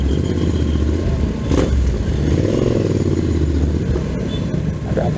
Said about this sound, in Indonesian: Nah ini malam-malam masih macet aja.